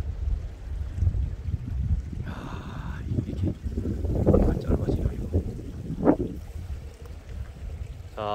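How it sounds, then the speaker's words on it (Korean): Strong wind sweeps through a mountain valley in winter, a continuous low roar with gusty buffeting at the microphone that swells and fades, steady for several seconds with no voice over it. "바람이 강하게 이렇게 산골을 훑고 지나가고 있습니다"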